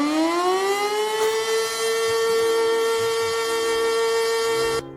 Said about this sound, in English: The weirdest siren sounds in the world. Timbers is the first one.